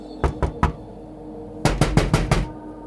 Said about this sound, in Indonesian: kembali ada yang mengetuk pintu kamarnya.